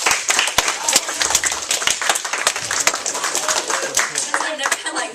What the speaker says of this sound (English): I've never had, like, people clap for me, like, individually, like, just me